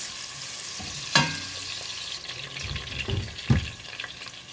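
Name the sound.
shallots frying in a pot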